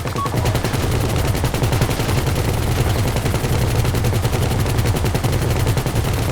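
Sustained rapid automatic gunfire in a video game heist, shooting at a helicopter, rattling continuously and loud with dense overlapping bursts throughout and no pauses.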